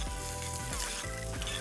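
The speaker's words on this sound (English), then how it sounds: "we're sauteing the corn." Corn kernels sauté in rendered bacon fat in a hot pan, a close, continuous crackling sizzle with faint stirring movement, brief and fairly quiet, no talk.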